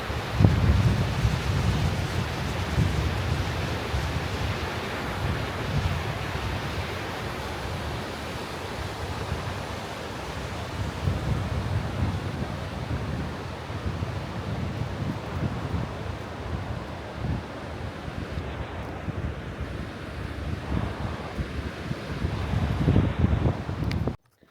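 Whitewater rushing at Dillon Falls on the Upper Deschutes River in Bend, Oregon, a continuous broadband roar with a deep low rumble, steady throughout with some wind buffeting on the microphone.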